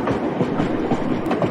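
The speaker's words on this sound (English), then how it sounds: "I can hear the train getting closer." A theme park ride train rolls close by at Warner Bros. Movie World, giving a loud steady rumble with rhythmic wheel clatter and no voices.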